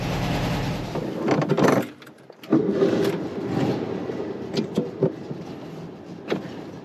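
A 1965 VW Beetle's engine runs steadily while the car backs up, with a few sharp knocks and clunks over the continuous engine drone, close and fairly loud, with no talking.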